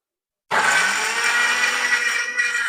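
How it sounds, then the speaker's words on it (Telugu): A mixer grinder starts abruptly and runs with a steady high whir while grinding ginger and garlic into paste in a home kitchen. "మిక్సీ పట్టేయాలా? మిక్సీ వేస్తున్నాం."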